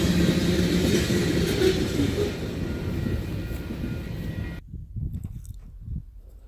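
A CP local freight train in Alberta made up of two-bay cement hoppers, scrap gondolas and 17,600-gallon tank cars rumbles past close by, a steady loud roll that cuts off abruptly near the end, leaving faint low noise.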